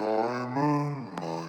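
A single low, deep sung vocal phrase pitch-shifted down an octave, with a thick, dark tone, ending in a brief sharp click; no other sounds accompany it.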